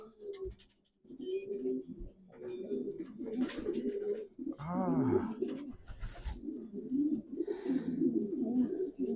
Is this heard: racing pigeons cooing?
yes